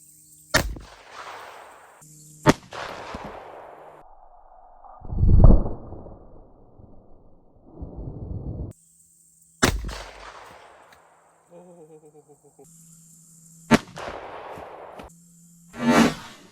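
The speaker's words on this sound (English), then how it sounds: "You ready to blast some soda with the Chiappa?" Gunshots from a Chiappa firearm fired at soda cans outdoors, several sharp loud cracks spaced across the stretch, each with a short decaying tail, separated by quieter gaps with faint rustling and a brief low thud.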